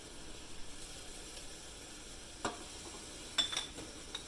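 Peppermint-scented candle wax mixture being stirred: soft, faint scraping and swishing at low volume, with a few brighter clinks and taps near the middle and end.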